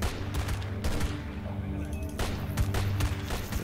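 Gunfire in S.T.A.L.K.E.R. Call of Pripyat comes as repeated sharp bursts and single cracks over a constant background rumble, loud and close throughout.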